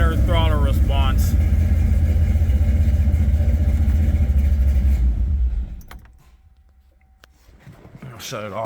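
Ford 4.6 three-valve V8 with a swapped intake and larger throttle body idling indoors, a loud steady low rumble that fades away as it shuts off, with brief voices and clinks at the start and end.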